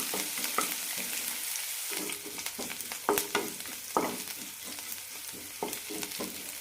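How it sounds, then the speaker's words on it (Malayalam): Onions with curry leaves sauté in a pan for banana flower curry, with a soft steady sizzle and frequent close scraping knocks of a spoon stirring, no voices. "സവാള ചെറുതായി ചോക്കുമ്പോൾ ബാക്കിയുള്ള ചേരുവകൾ ചേർക്കാം"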